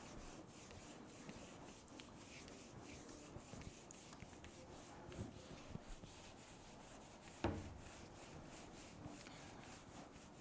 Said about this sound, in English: So let us rub all these out.